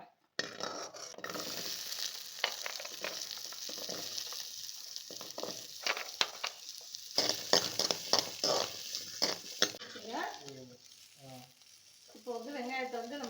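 Green chillies sauté in a pan, giving a soft, uneven sizzle broken by clinks and scrapes of stirring, with a few brief louder clatters near the end.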